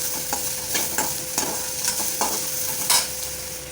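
Onions fry in groundnut oil in a pan, a steady sizzle broken by repeated scraping strokes of a spoon stirring through them, close and moderately loud with no talking.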